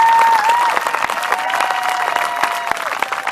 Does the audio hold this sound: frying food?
no